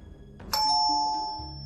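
A household doorbell in an Indian home gives a single electronic chime, a bright ringing tone that starts sharply and sustains for over a second, clear and close with no talking.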